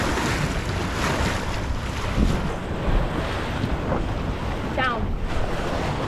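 Strong wind buffets the microphone over the wash of water around a small boat at a boat club regatta. A voice speaks briefly under the loud, constant roar.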